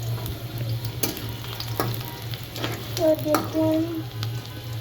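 Onions frying in oil, a steady moderate sizzle with intermittent stirring scrapes, while someone speaks briefly partway through.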